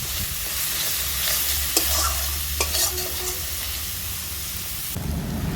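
Ground cumin, coriander, chilli and garam masala sauté in a pan for egg korma, a steady close sizzle with a low rumbling undertone and a few sharp stirring scrapes, swelling louder near the end.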